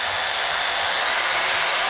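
A Lake Country UDOS polishing machine runs at its lowest speed setting, a steady, fairly loud whirring hum with no talking.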